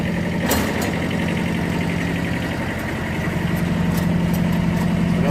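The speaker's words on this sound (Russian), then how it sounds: "Сейчас включим вал отбора мощности." A Kubota KJ11 Japanese mini tractor runs in first gear with its power take-off driving a rotary tiller, giving a continuous close engine chug with a steady throbbing rhythm and no talk.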